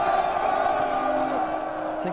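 Massed shouting from a huge army of about 40,000 soldiers raising a deafening battle cry, a dense, sustained roar of many voices held steadily loud for the whole stretch.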